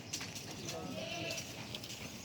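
Goats bleating at a goat sale among large male goats, a few short bleats heard at moderate distance, mixed with background voices and ambient noise.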